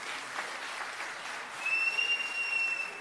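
Applause from an audience for a children's performance at an ITI campus event, a steady wash of clapping that swells louder partway through, with a thin sustained whistle-like tone over it.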